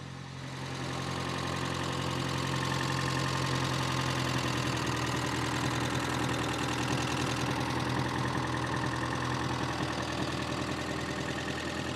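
A car engine idles steadily while warming up, recorded up close with a loud, even mechanical drone and a faint knocking texture, running alone without talk.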